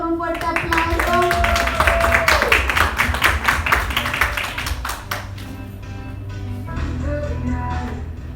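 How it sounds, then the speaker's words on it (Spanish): Applause from an audience at a live fitness event sounds as dense, steady clapping that fades after a few seconds, under a voice talking and with a high tone sliding across it. "vamos a recibirlo con un fuerte aplauso"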